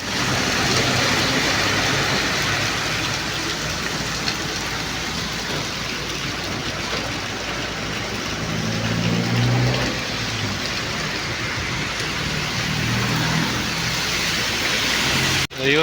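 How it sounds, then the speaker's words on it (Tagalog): Heavy rain pours down in a dense, steady hiss that holds unbroken for the whole stretch, with a faint low rumble underneath. "sinabot na kami ng ulan, ni Katupad."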